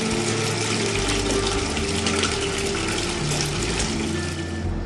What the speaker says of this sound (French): Je filtre le lait avec la présure.